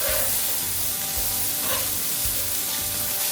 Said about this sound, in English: the pan is still hot, we're gonna add about another tablespoon of our oil. We're gonna add our zucchini in.